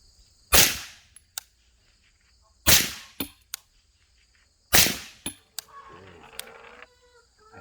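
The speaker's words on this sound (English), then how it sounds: "But we'll shoot a couple of VMAXs in the target, see how it goes." .30 caliber rifle shots with V-Max bullets fire at a target about fifty yards out, three sharp loud cracks a couple of seconds apart, each followed by a brief echo and small clicks.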